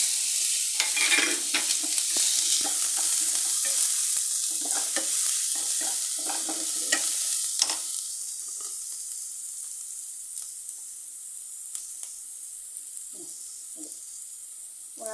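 Shallots and turmeric powder fry in a pan, a continuous close sizzle with repeated scraping stirs that gradually quieten into a softer hiss with occasional utensil clicks.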